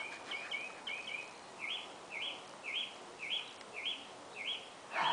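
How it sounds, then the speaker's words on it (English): A bird chirps in short, bright bursts, repeating at a steady pace roughly twice a second, fairly close against quiet background hiss. "And I know you heard the birds the whole time."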